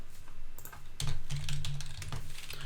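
A search phrase is typed quickly on a computer keyboard, with close, crisp clattering keystrokes in an irregular run and no talking.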